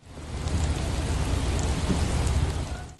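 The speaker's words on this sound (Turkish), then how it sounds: "Bazı ilçelerde kısa süreli ve yerel olarak görülen yağmur aralıklarla etkisini gösterdi" Steady rain falls in Istanbul in a dense, even hiss with a low rumbling undertone, continuous for the whole stretch.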